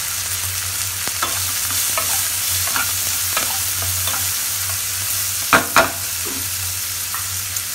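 Boiled peas are stirred through hot oil in a pan, giving a continuous close sizzle and a low steady hum, with a few soft spoon scrapes and two sharper knocks near the end.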